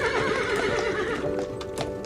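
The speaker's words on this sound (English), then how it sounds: "7 cart horses" Cart horses on a historic estate home farm neigh loudly, with a sustained whinny running through the whole stretch over steady clip-clopping hooves close by.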